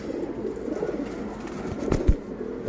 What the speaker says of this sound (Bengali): খুবই দুষ্ট কবুতর